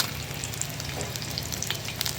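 Fish fries in a pan over a low flame, a continuous close sizzle with small crackling pops throughout, steady in loudness and free of speech.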